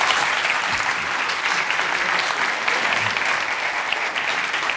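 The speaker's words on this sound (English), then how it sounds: "Round of applause." Audience at a conference talk giving a round of applause, a dense, even wash of clapping that stays loud and steady for the whole stretch with no voices standing out.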